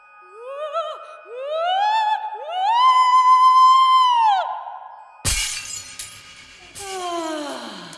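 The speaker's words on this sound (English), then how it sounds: "Now, Venelia, break the glass and put out the light." Glass shatters in a full-cast audio drama of George Peele's The Old Wives' Tale, a sudden loud crash with tinkling shards ringing out after sustained sung tones, followed by a second smaller breaking burst.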